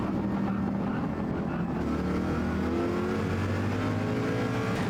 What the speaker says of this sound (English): Something American V8 power, baby.